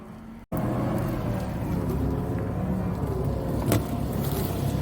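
A vehicle rumbles steadily as it reverses into place on a farm while compost is being moved, a continuous low engine drone with a brief cut near the start.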